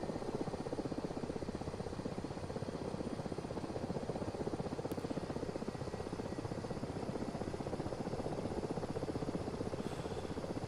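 Aircraft engine in a flight sim game during a takeoff run, a steady, loud, continuous droning roar with a fast pulsing beat that holds evenly throughout, with no voices.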